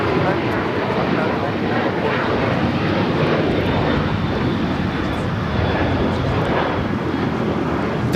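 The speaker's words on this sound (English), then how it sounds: "This is American Airlines 1994 taking off to Phoenix on the 737-800." American Airlines Boeing 737-800 taking off at LAX for Phoenix, a loud, sustained broadband jet roar heard from nearby that holds steady throughout.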